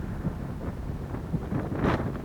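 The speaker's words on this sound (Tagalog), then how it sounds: "Simoy ng hangin." Wind blowing across an open deck aboard a ship travelling from Chiba to Yokohama, Japan, a continuous low rumbling buffet against the microphone with gusts swelling louder near the end.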